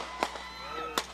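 Gunfire in a military counterterrorism disaster drill staged as a zombie attack on a mock village: two sharp, fairly distant cracks about three-quarters of a second apart, over a steady background hum.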